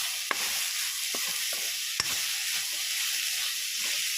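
Continuous sizzle of coconut and jaggery stir-frying, with a few sharp scraping stirs of a spoon against the pan, close by and without talk.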